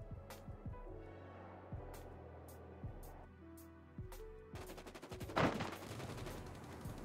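Gunfire in the Rules of Survival battle royale game: scattered single shots ring out at first, then a rapid burst of automatic fire. The shots sound moderately distant and play alone, with no talking.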